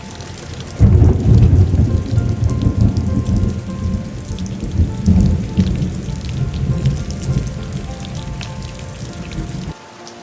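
Heavy rain pours down on a remote island and fills a water collector, a loud dense roar of drops that starts abruptly, holds steady for several seconds, then cuts off near the end.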